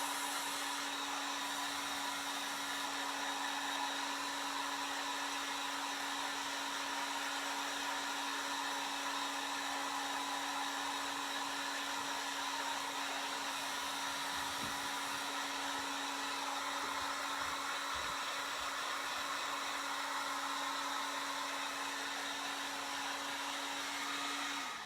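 A hair dryer blowing on a fall topiary craft, a steady, continuous whirring roar with a constant hum, running alone and unchanging.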